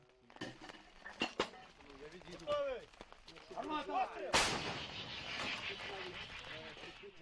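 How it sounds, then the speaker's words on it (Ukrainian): A loud, sharp howitzer blast from Ukrainian frontline artillery lands midway through, followed by a long rumbling tail, with people talking beforehand. "розрахунок гаубиці починає стріляти"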